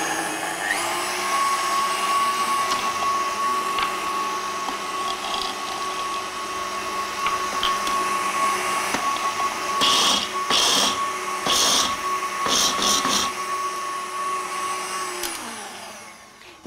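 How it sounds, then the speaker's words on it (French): Electric mixer whipping egg yolks with sugar in a home kitchen, a steady continuous motor whir lasting throughout at close range, with brief bursts of louder clatter near the end before it winds down. "je vais faire tourner mon mixeur et pendant que mes jaunes blanchissent avec le sucre"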